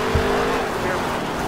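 The number 8 race car in NASCAR Heat 3 drives at speed, a loud, steady engine roar with some tire noise, close and continuous throughout.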